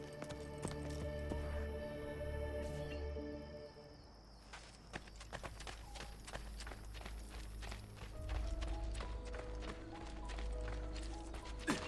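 Horse hooves clip-clop steadily in Assassin's Creed Brotherhood, a brisk rhythmic trot of sharp knocks running through the whole stretch over a bed of orchestral game music.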